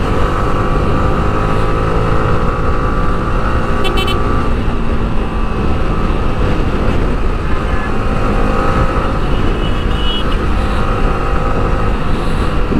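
A motorcycle cruising on the Dhaka expressway gives a loud, steady engine drone blended with rushing wind and road noise, unbroken from start to finish, with passing traffic faintly in the mix.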